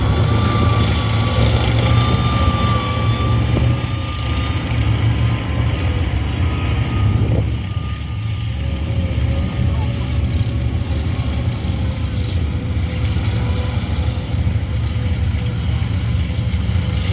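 A Swiss Army Pz 61 tank rumbles steadily at a Cold War tank parade, its heavy engine and track drone loud and constant throughout, with a brief dip partway through.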